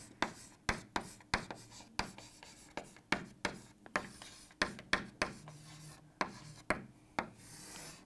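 Chalk-like strokes and taps on a board as a chemistry topic is written out, giving irregular clicks and short scratchy rubs at close range in a quiet room with no talking.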